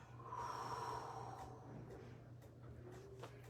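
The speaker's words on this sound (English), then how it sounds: "take a deep breath" A person draws one slow, deep breath and lets it out again, soft and close in a quiet room, with no speech.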